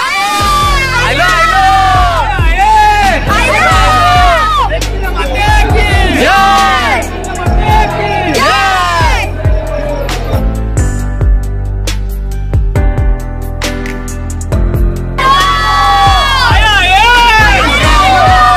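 A dense, loud crowd of pilgrims at the Ekvira temple during the Chaitra Saptami palanquin festival, with shouting, whooping and a constant babble of voices close around, and people talking nearby.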